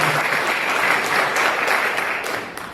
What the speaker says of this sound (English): You guys give yourselves a round of applause for being such a wonderful crowd and audience.